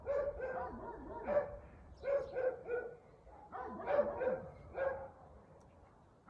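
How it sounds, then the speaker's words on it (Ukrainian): Dogs bark in quick clustered bursts, several at a time with short gaps between, faint and somewhat distant. "Щоб там собаки не гавкали."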